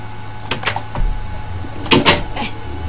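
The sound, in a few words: door opening or closing in Minecraft video game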